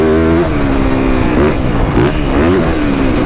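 A 2023 Yamaha YZ450F motocross engine close by, loud and continuous, with a couple of quick throttle blips pushing the revs up briefly before they settle back.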